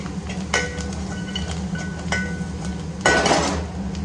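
Onions and curry leaves frying in oil in a pan while being stirred, for an egg coconut curry; a steady low sizzle with occasional metallic clinks and scrapes of the spoon against the pan, close and alone.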